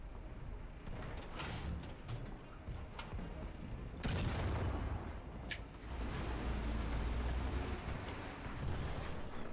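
A tank cannon fires in the War Thunder video game, a loud booming blast near four seconds and a second heavy boom around six seconds, over rumbling engine and battle noise, with no talk.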